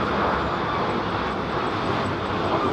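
A Biman airliner roars at London Heathrow Airport, a loud, steady, broadband jet engine rush filling the whole moment without a break.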